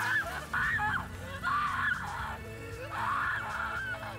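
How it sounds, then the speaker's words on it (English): Screaming creatures in the video game Tiny Tina's Wonderlands, shrill honking, wailing cries that repeat in three rising swells over a low rumbling game background. "Okay, the screaming."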